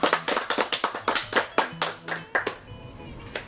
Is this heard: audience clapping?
yes